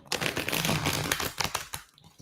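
A deck of tarot cards is shuffled close by, with rapid, papery riffling bursts that rise and then thin out toward a few last flicks.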